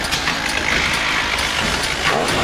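A combat robot's chainsaw runs steadily at high revs, a loud continuous buzzing drone that holds constant without pauses and with no one talking.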